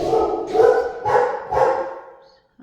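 A dog barks outdoors near a fence: three loud, rough barks at roughly half-second intervals, each trailing off, followed by a brief quiet moment.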